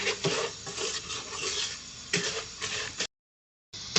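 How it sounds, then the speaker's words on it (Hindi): A spoon scrapes and stirs semolina roasting in ghee in a pan, a steady close scratching with brief gaps and a louder stroke midway, then a short silence. "ये मैंने सूजी को अच्छी तरह भून लिया और ये घी भी छोड़ दिया इसने"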